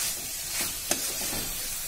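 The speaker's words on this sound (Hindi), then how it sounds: "और अब मैं इसमें ऐड करूंगी ये अपनी चाप, और इसे भी मैं इसमें अच्छे से भून लूंगी।" Soya chaap pieces frying in masala, a quiet steady sizzle with faint stirring scrapes and one brief sharp click, heard alone.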